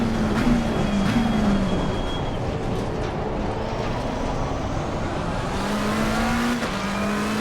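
Race car in a racing video game at Suzuka braking late into the chicane, a loud continuous engine drone dipping in pitch under braking then climbing again as it accelerates, with tire noise.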